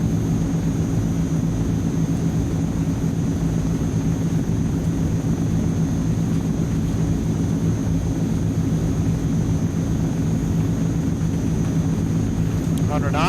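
Twin turboprop engines of a Transall C160 military transport at takeoff power, a loud, steady droning roar with a constant hum that holds unbroken for the whole stretch, heard close from the cockpit.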